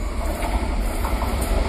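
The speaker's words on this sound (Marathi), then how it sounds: "इंजिन आहे, इंजिन नुसतं इंजिन आहे गो." A locomotive rolls past on the Madgaon–Nagpur Express route, a loud continuous heavy rumble with rattling wheels and clatter that stays close throughout, with no voices.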